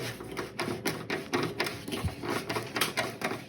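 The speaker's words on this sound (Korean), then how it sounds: "소켓을 돌려줍니다" An RCA socket twisted inside a CAPE CODE polishing cloth produces soft, rhythmic rubbing and scuffing strokes, close and fairly quiet, repeating several times in quick succession.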